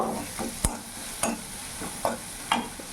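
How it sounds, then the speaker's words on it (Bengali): Spices stirred into a frying pan for a papaya and moong dal dish: a steady sizzle with four sharp scraping strokes at regular intervals, close and clear with no voices. "সব মশলাগুলো ভালো করে মিশিয়ে নেব।"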